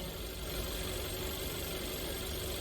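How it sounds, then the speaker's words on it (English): A car engine idles steadily at close range during automotive ignition diagnosis, a continuous low rumble with even vibration and no talk over it. "Let's stop the engine."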